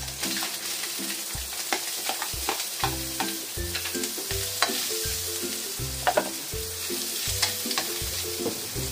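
Sliced onions fry in hot oil in a pan for a homemade pork igado, giving a continuous, steady sizzle with scattered crackles and the clatter of stirring, close by and without talk.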